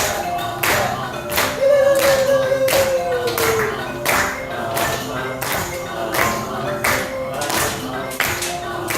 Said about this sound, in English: Give me a hand clap. Clap, clap, clap, clap